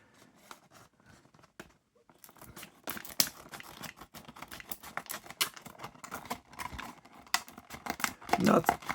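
Someone cuts into and opens a package of die-cast model cars, including a 1973 Cadillac Sedan DeVille, making close snipping, tearing and crinkling noises that start sparse and grow into busy bursts of plastic and cardboard handling.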